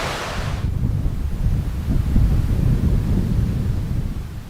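River water in Himachal Pradesh, swollen after two days of rain, rushes steadily as a broad, continuous roar with wind buffeting the microphone, and no voices.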